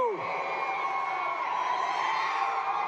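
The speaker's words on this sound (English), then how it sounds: "you're a very loud crowd" A large rally crowd in Phoenix cheers and roars in a dense, sustained wall of voices and whoops that holds loud throughout.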